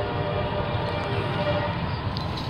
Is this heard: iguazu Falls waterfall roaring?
no